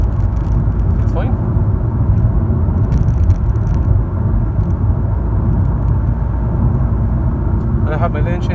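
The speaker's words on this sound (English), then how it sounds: "just to show you how it sits on the road, and the road's quite wet. I'm doing 60, which is 100 kilometers an hour." A 2018 Honda HR-V 1.6 diesel cruising at 100 km/h on a wet road, heard from inside as a loud, steady low rumble of engine and tyre noise that continues throughout.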